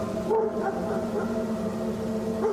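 Dogs barking and yipping in short repeated bursts at moderate distance, reacting to something near a road, over a steady low background hum.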